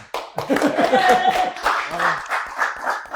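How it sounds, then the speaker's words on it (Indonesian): A short burst of clapping from a small group, with voices and some cheering mixed in over the applause. "Tepuk tangan."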